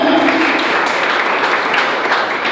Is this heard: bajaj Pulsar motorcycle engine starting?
no